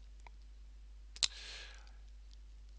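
A single sharp computer mouse click, quiet and brief, in a quiet room with faint background hiss.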